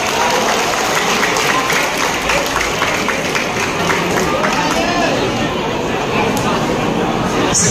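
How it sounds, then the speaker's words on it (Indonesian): A crowd at an outdoor Indonesian political campaign rally in Sragen applauds for Partai Umat, a loud continuous wash of clapping and cheering mixed with chatter and a voice over it. "Tepuk tangan untuk Partai Umat."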